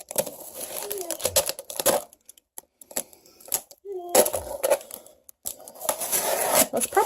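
A book-sized package sealed with masking tape is cut open with scissors, giving close, rustling cuts and crinkling paper in bursts between pauses, with someone talking over parts of it.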